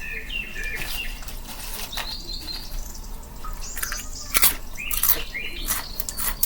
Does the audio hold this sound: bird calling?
yes